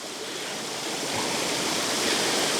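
An outdoor waterfall pours continuously, a dense, even rushing roar of falling water with no breaks and no voices.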